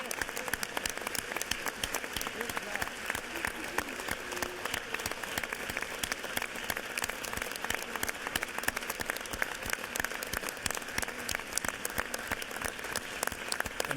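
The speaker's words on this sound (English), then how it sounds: "Please join me and let's give a big round of applause to the Down Syndrome Association and our friends here." Sustained applause from a large group fills a state House chamber for the Down Syndrome Association, a dense, steady patter of many hands that continues evenly throughout at moderate distance.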